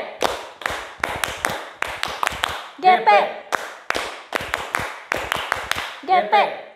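A youth church group performs a patterned rhythmic clap together, sharp synchronized claps and taps in repeating bursts, with short shouted chant-like vocal bits between the clapping runs, close and loud.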